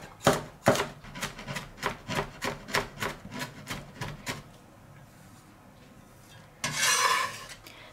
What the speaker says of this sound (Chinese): 准备几粒大蒜，咱们给它切碎。